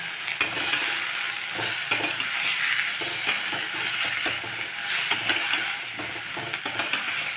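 Tomato soup is stirred in a pot with basil, herbs and leeks, giving a steady scraping, bubbling texture with light clinks throughout, close and fairly loud, with no talking.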